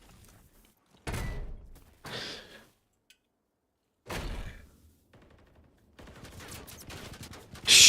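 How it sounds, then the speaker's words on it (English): Gunshots in a competitive tactical shooter video game, a few sharp bursts separated by short silences, heard with game sounds in the background. "Shots being fired straight down the A site."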